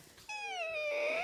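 A person's voice imitates a cat's squeaky cry, a single drawn-out, wavering high-pitched whine lasting about a second, close and fairly loud with no other talk.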